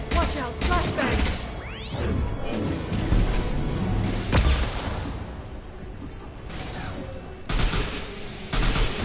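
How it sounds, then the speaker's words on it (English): In a Mass Effect 2 firefight a flashbang grenade goes off with a sharp crash and a rising whoosh, set among loud gunfire and mechanical clatter, and a voice is heard amid the din. "Watch out, flashbang!"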